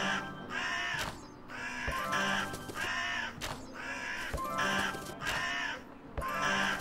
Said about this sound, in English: help me do away with these crows? They've overrun my workshop.